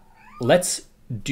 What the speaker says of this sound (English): You have to excuse my songbird cat in the background.